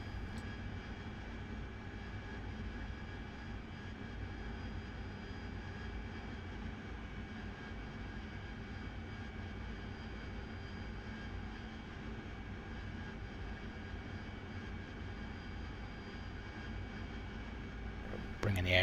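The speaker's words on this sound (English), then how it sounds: "Bringing the aircraft down to 800 feet as we get nearer to our 3 nautical mile DME." An AV-8B Harrier's jet engine in the DCS World flight simulator drones with a steady, even whine and rumble through a shipboard approach, unbroken at moderate level for nearly twenty seconds.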